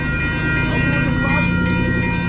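A train rumbles past in Compton, Los Angeles, a loud continuous roar with a steady tonal whine, heard from close alongside while riding a Sur-Ron electric bike, with a voice talking over it.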